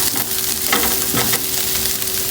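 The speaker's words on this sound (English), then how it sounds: "Start by sauteing your leeks or your onion and spinach with some oil." Leeks or onion and spinach sauté in oil, a close, steady sizzle with a couple of soft stirring scrapes, lasting only a moment and without voices.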